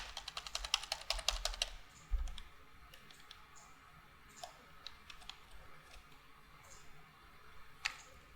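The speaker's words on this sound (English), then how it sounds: "Type the number of rings you want." A computer keyboard is typed on in a quick burst of close clicking keystrokes while a number is entered, followed by a few scattered single key taps amid quiet room tone.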